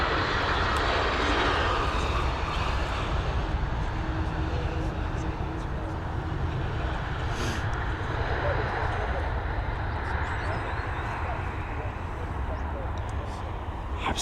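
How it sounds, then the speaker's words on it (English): A Scandinavian Airlines plane in SAS livery arriving at Dublin Airport, a steady broad engine roar holding loud throughout, with a voice talking over it. "we've got this Scandinavian with the SAS livery just coming in now as well"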